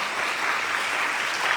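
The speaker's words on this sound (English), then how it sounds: "Give them a big round of applause." Steady, dense applause from a congregation at a Sharad Navaratri gathering in a Devi Mandir in Pickering, many hands clapping together at an even level with no voices on top.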